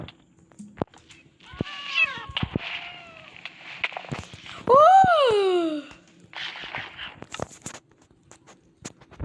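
A cat meows in the Minecraft video game, with a couple of rising, wavering cries close by, the loudest near the middle, mixed with clicks, footsteps and game sounds.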